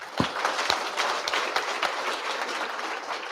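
Crowd in a community hall in Windhoek gives a round of applause at a Swapo Party Youth League event, a dense continuous clatter of many hands with a few sharp louder claps at the start.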